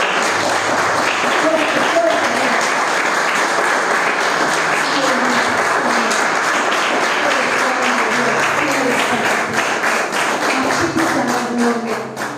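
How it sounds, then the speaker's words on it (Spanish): A church congregation at a prophetic worship service applauds, loud continuous clapping filling the room for several seconds while voices call out and speak over it. "Denle un aplauso al Espíritu Santo."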